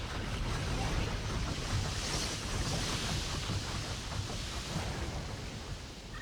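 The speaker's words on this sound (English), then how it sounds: "And this chooses whether the water goes up or down." Water in the Riven game's water elevator rushes and churns as a dense, continuous roar, loud and steady throughout with no talk over it.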